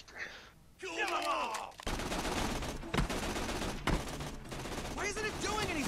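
Gunfire rattles through a scene in the Tales from the Borderlands video game, with sustained bursts and sharp cracks over music and effects, while voices speak and groan around the shooting.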